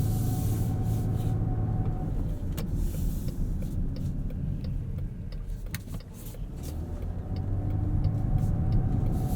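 Steady low road rumble and engine drone from a 2020 Chrysler Pacifica Limited minivan driving, heard from inside the cabin, continuous with a slight dip in the middle before building again.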